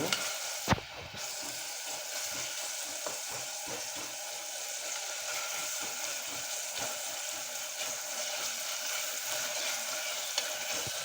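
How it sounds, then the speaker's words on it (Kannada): Ginger garlic paste sizzles steadily in a pan for pulao, a dense close frying hiss broken by light scraping stirs throughout. "ಶುಂಠಿ ಬೆಳ್ಳುಳ್ಳಿ ಪೇಸ್ಟು ಸ್ವಲ್ಪ ಫ್ರೈ ಆಗಬೇಕು ಹಸಿ ವಾಸನೆ ಹೋಗಬೇಕು"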